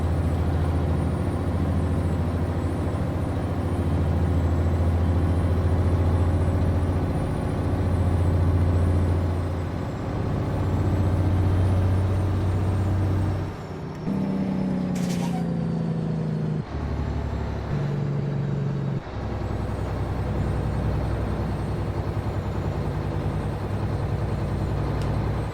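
A Mack R Series truck in American Truck Simulator drones with a deep, steady engine rumble whose pitch rises and falls, broken midway by sharp hisses of the brakes being tapped, then the engine settles back in.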